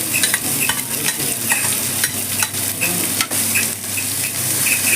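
Thinly sliced large onions sizzle in hot oil with turmeric and cumin in a cooking pot, a steady frying hiss broken by sharp stirring scrapes and clinks, with no talking.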